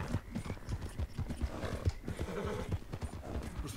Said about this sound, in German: Ja, ich reite jetzt auch langsamer